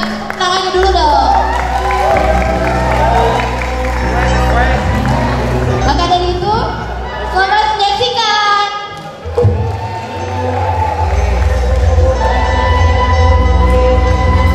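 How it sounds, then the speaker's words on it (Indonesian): Audience applause after a traditional longser theatre performance by a Bandung theatre group, with loud clapping and crowd noise mixed with music and voices, a brief dip midway, then sustained clapping to the end. "Tepuk tangannya dulu dong."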